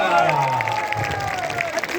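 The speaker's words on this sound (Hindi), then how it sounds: "एक बार बैठिए के दोनों हाथ खड़े करके ताली बजा दीजिए" An audience at an evening poetry gathering claps, a short burst of scattered applause mixed with crowd noise and a voice over it.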